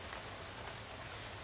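Steady rain pours in the video game Shadows Over Loathing, a dense, even hiss of drops on surfaces filling the whole moment at a constant level, with no voices.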